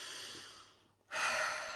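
A single slow, deep inhalation taken during a guided relaxation meditation, a soft airy breath that fades, pauses in near silence, then swells into a louder, fuller breath.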